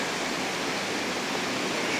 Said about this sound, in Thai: มันจะเป็นโขดหินนะคะ สูงแล้วก็น้ำไหลลงมา